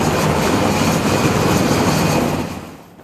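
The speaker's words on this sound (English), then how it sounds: "The Huey's distinctive design and sound have made it a symbol of American military aviation." A Bell UH-1 Iroquois Huey military helicopter roars loudly and close with a dense, steady engine and rotor rumble that fades away over the last half second.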